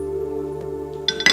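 A bowl is set down in a kitchen while a chickpea salad is being made, giving two quick glassy clinks near the end over a steady low hum.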